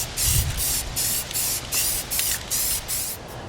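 Spray paint hisses from a can held about six inches from a model train structure, laid on as a light coat in a series of short bursts with brief gaps between them, close and fairly loud, with no speech.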